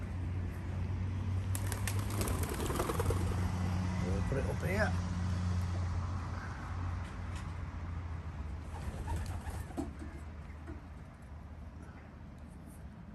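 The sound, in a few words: racing pigeons cooing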